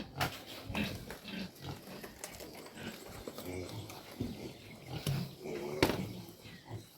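Pigs grunt and oink in a farm pen, fairly faint among rustling, knocks and scattered background voices throughout.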